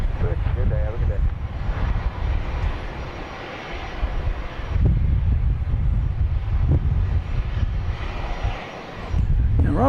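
An airplane passing by at Dallas Love Field, a deep, loud engine roar that swells and eases over about ten seconds, mixed with wind buffeting the microphone, while people talk.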